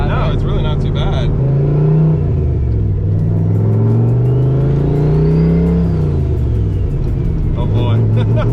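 A turbocharged 800-horsepower Foxbody Mustang engine rumbles and rises in pitch as the car accelerates, heard loud from inside the cabin, with people talking over the start and end.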